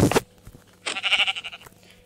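A single sheep bleats loudly and close by for about a second, a wavering nasal call following a sharp burst of noise at the start, with no talking over it.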